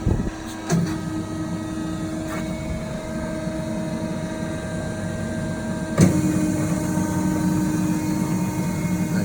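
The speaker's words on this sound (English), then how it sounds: "now we'll just run the seam up and down to sort of show you how the actual rollers will actually roll the vertical seam" A Steelmaster VDSC-1600 vertical duct seam closing machine runs its rollers along a 1000mm duct seam. It gives a steady mechanical whirring drone with a constant hum, sharp clicks near the start and a clunk partway through as the load shifts.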